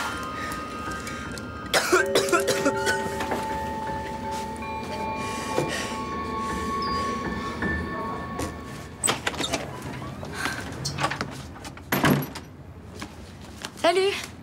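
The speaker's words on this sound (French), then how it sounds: "il s'est mis à tousser violemment" A man coughing violently indoors, a few harsh bursts scattered across the scene under ongoing conversation, with door and household clatter around them.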